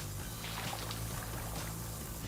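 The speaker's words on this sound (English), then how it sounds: "each part is cut using a water jet" An abrasive water jet, mixing water and sand under very high pressure, cuts lightweight aluminum sheet for robot parts, giving a steady, loud, broadband hiss with a low rumble underneath.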